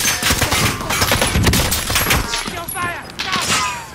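Rapid bursts of automatic gunfire crackle loudly and continuously in Call of Duty: Warzone, dense overlapping shots filling the scene with players talking intermittently.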